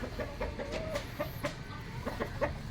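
Hens clucking in a chicken coop, a run of short close clucks and murmurs at an uneven rhythm with no voices.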